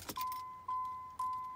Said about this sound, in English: Oh, the chime's real quiet.